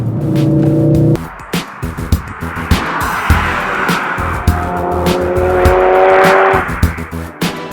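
A hot hatch engine revs hard and climbs through the gears, with rising tones broken by quick shift gaps and sharp bursts, loud and close throughout.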